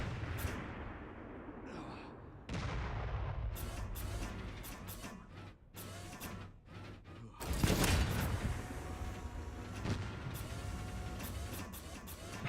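Cannon fire in Resident Evil Requiem, sharp heavy blasts and crashing impacts in irregular bursts, with a big boom near the middle and rumbling game noise between shots.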